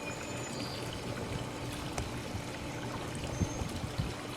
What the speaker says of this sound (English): Backwashing the filter.